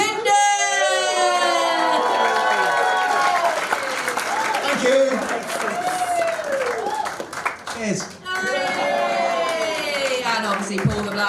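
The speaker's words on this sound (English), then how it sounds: "Massive round of applause for these two that go on to bear the heat" Audience applause and clapping for two winners of a live stand-up comedy competition heat, Comedian of the Year 2025, with a host talking loudly over it throughout.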